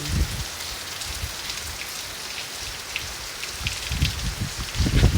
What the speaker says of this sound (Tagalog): Ayan maulan.